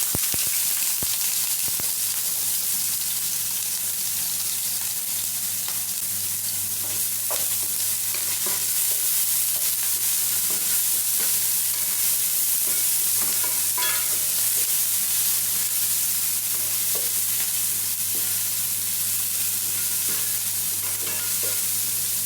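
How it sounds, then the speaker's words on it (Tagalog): Chopped onion and garlic frying in cooking oil for garlic fried rice, a dense, continuous sizzle with occasional utensil scrapes as it is stirred, no talking throughout. "haluin lang natin ng haluin ang ating onion at saka garlic"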